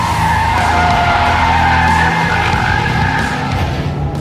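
A Mitsubishi Evo X corners hard at about 100 on a track, its tires skidding and squealing in a loud, continuous screech over steady engine roar.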